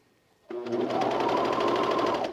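A sewing machine stitching a men's raglan shirt starts abruptly and runs at a steady, fast whirring pace for about two seconds, heard from a short distance with no talking.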